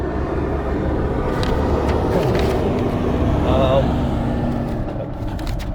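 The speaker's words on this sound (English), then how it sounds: "A couple of trucks passing by" A couple of trucks pass by on a road, a loud, steady low rumble that swells and fades, with someone speaking over it.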